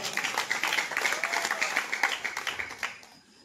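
Audience clapping at a comic Odia poetry recital by hasya kavi Debendra Sahu at Bhatli, a dense burst of handclaps lasting about three seconds, moderately loud, before it thins out and stops.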